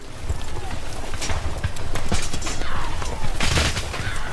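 Horses gallop through water amid volleys of gunfire in a documentary reenactment of soldiers on horseback attacking burning boats at the Kanpur massacre; dense, continuous hoofbeats and rattling shots with booming bursts, all blended into a loud battle din.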